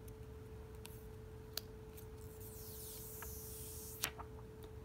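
Protective film peeled off a brand-new Motorola Moto E6 phone gives a soft, faint crackling sweep with a few sharp ticks, close up in a quiet room with a steady low hum.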